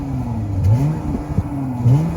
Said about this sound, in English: It actually has a soft limiter, so it only raises up to 3000 RPM.